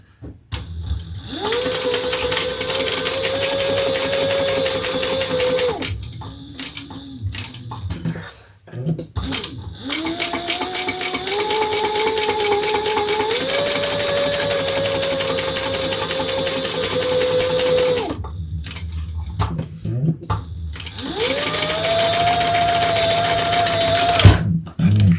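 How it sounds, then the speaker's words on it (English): Sewing machine stitching a lined zipper pocket on a crossbody bag, running in several long steady bursts with brief pauses between, its motor whine rising in pitch as the speed changes, close and loud. "Now we're going to stitch our pocket together down here just at 1/8 of an inch."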